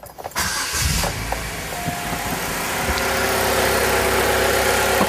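A four-cylinder car engine cranks and catches after a spark plug change, then settles into a steady, smooth, fairly loud idle that holds evenly with no talking.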